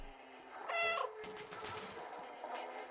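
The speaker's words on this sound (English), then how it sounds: "My meow can turn off electromagnetic signals." A cat meows in the video game Stray, giving one clear, harmonic meow at moderate loudness, followed by softer, scattered in-game sounds.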